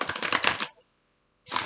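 Tarot cards being shuffled, a dry riffling flutter for under a second, a short silence, then another burst of shuffling, close by.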